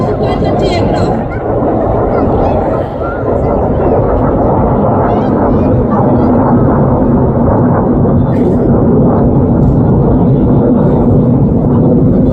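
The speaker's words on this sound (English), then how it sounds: "44 bombs have been dropped by 2 Sukhoi 30 aircraft." Two Sukhoi 30 fighter jets roar overhead during an Indian Air Force bombing and flare demonstration at Pokhran, a loud, continuous, heavy rumble that fills the air without a break.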